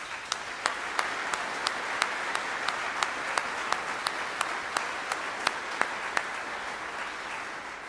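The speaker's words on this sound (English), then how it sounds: "Please join me in applauding Army families." At a military change of command ceremony, an outdoor audience gives steady, sustained applause for Army families, a wash of many hands with sharp individual claps standing out clearly throughout.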